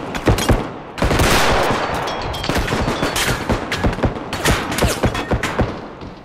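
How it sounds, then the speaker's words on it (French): Rapid, dense gunfire from the realistic first-person shooter Bodycam fills the entire stretch in loud, close bursts and single sharp shots, with the tinkle of spent shell casings dropping to the ground between them. "quand vous tirez, vous entendez les douilles tomber au sol"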